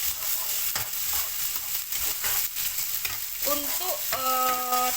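Kaffir lime leaves and lemongrass are stirred in a hot pan while cooking Padang-style ikan cuka, giving a steady close sizzle with scraping stirs, and a few short tones near the end.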